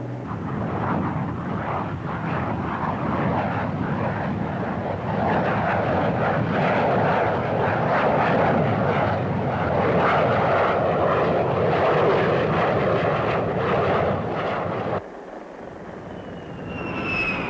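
An F-4B jet on a straight-in approach and landing at Marine Cherry Point with a fire warning light roars loudly and steadily for about fifteen seconds, then the noise drops abruptly to a quieter rumble.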